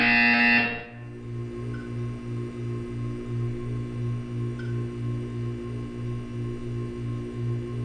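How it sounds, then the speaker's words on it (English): Electronic buzzer in Portal 2, a low pulsing drone beating in a steady rhythm after a short burst of brighter sound, with a constant hum running underneath. "You will hear a buzzer."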